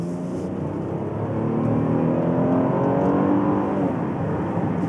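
Engine of a 2015 Chevrolet Impala with about 300 horsepower, heard from inside as it accelerates hard onto an interstate: a steady, loud rising drone that builds over several seconds with no talking.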